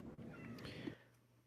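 A cat meows once, a short, clear, faint mew with a rising and falling tone heard on its own.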